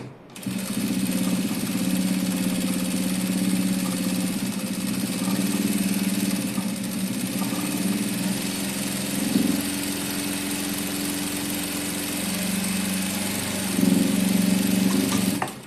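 A sewing machine stitches a dress seam with a steady, continuous mechanical whir, running at an even pace with slight shifts in speed and a brief surge near the end.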